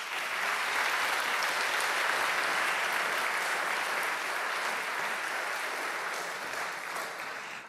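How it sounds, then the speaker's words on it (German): Audience applause at a geoscience stage show in Bonn, a dense, even wash of clapping that holds steady and loud, then eases slightly toward the end. "Großen Applaus"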